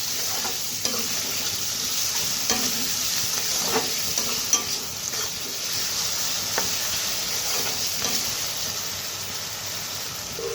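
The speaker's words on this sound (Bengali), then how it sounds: "লবণ দিয়ে ভালোভাবে নেড়ে নিই।" A spoon stirs potatoes and salt in a hot pan, scraping and clinking now and then over a continuous bright sizzle, close and fairly quiet, with no talking.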